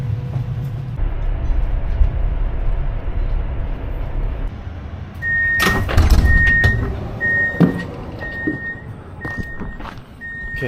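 A train sits at a station with its doors working: a low rumble, then clunks and a hiss, followed by a series of evenly spaced warning beeps over the steady hum of the train.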